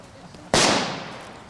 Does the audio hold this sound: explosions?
yes